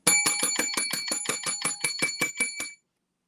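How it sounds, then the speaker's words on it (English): A bicycle bell rings in a fast, steady series of about twelve bright dings, loud and close, with nothing else heard, then stops abruptly. "I know you love the bell."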